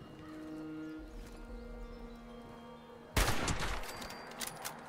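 Gunfire in the video game Fallout 76, a sudden loud burst of rapid shots cutting in after a quieter stretch of game ambience with a low animal-like moan, close and harsh.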